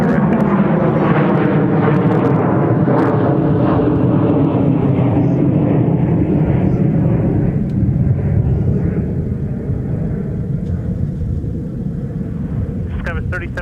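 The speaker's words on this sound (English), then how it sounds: "it's a fairly new, extra long range variant of the venerable A321 Neo" An Airbus A321neo extra-long-range variant airliner at Minneapolis–Saint Paul airport, a loud, sustained jet engine roar with a falling whine that slowly fades over many seconds, while a voice talks underneath.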